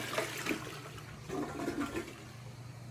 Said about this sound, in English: I'm gonna go flush him down the toilet now.